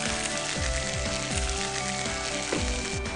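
Kidney beans tipped into a pan of fried onions, garlic and green chillies, sizzling steadily and close throughout, with a dense frying hiss that never lets up.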